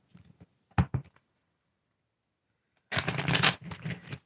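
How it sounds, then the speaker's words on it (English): Tarot cards are shuffled in short riffling bursts, a quick flurry early on and then a longer, louder run of crisp card flicks after a quiet gap. "Tell me when to stop shuffling."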